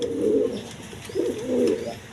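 Lakkha pigeons coo in a pair of low, rolling phrases, close and fairly loud, with no talk over them.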